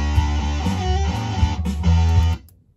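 Bass line programmed in GarageBand, played alone with a warm, sustained low tone and steady note changes alongside a fuller backing, stopping abruptly near the end.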